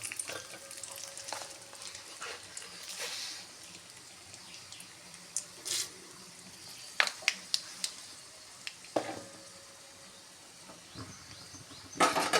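Close, quiet sizzling of onion vadagam frying in oil over low heat, with scattered sharp crackles and pops breaking through the steady hiss.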